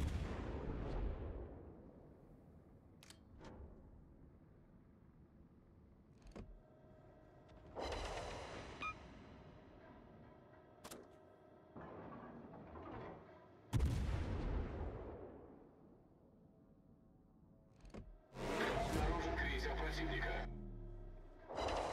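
Naval gunfire in World of Warships during a clan battle: repeated heavy cannon salvos with booming blasts and long rumbling decays, some layered shots near the end, with players talking over voice chat between shots.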